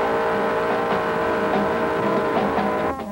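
A 1969 Plymouth GTX 440 sweeps through a turn at about 50 mph, its big V8 giving a loud, steady roar with a rough rumble close by, easing off in the final moment.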